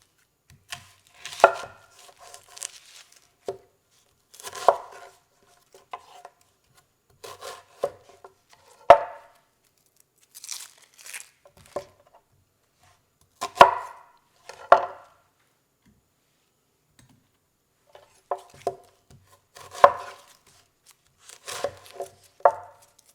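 A knife cuts onions into big chunks on a board, giving scattered bursts of crunchy, scraping cuts separated by quiet pauses.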